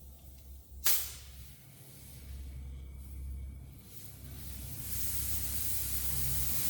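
Compressed air hisses through a valve on the front air ride suspension of a C50 build, a sharp burst followed by a quieter rushing hiss that swells into a steady, loud spray.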